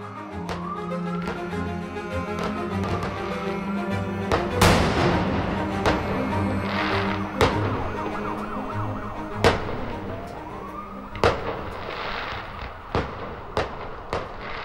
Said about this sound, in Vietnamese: Chiếc xe cứu thương réo lên ai oán giữa màn đêm vắng như tờ. Tiếng pháo hoa lùng bùng vẫn nổ vang trên bầu trời đón chào năm mới.